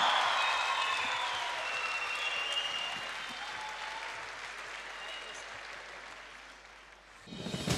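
A concert audience at an evening of songs claps steadily to welcome a singer to the stage, dense applause that slowly thins and fades before a voice begins at the end.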